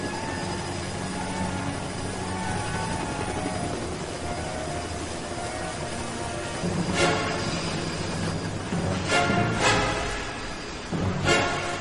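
Steady whirring rotor drone with a constant broad roar, like a helicopter hovering close by, with a few sharp gusty bursts near the end.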